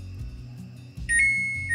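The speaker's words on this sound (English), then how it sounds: "let's kill the timer" A brewing timer beeps steadily during a homebrew beer boil, a thin electronic tone that sharpens and grows louder midway through, heard alone with no talking.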